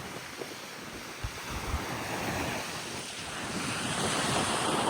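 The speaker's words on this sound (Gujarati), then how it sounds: "તો પવનનો અવાજ ફૂલ આવે છે." Wind blows steadily by the sea at Mithapur beach, a broad rushing roar mixed with surf and microphone buffeting that swells slightly toward the end, with no talking.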